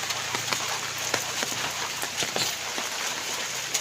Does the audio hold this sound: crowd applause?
no